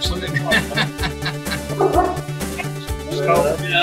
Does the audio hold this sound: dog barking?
yes